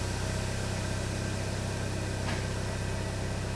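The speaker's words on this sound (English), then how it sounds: "The timing chain noise is still there." Mini engine idling steadily at close range, a constant hum with a faint rattle from a worn timing chain, continuous and even throughout with no voices.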